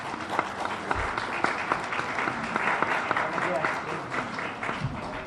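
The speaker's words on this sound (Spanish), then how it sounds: "a quien les pido por favor un fuerte aplauso" A seated audience applauds to welcome a presiding magistrate at a legal lecture, with moderate, fairly distant clapping and a few thumps and crowd murmur mixed in.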